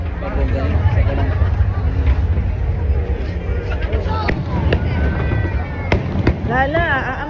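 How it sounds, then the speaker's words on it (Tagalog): Fireworks going off at a pyro musical competition, with sharp bangs and crackling bursts rising over a steady crowd murmur; people chatter close by throughout. "Ito, iba-iba yung fireworks."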